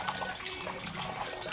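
Tap water running steadily while fresh fish is washed for ginamos, a continuous close splashing rush with no break and no voices.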